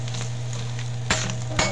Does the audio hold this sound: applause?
no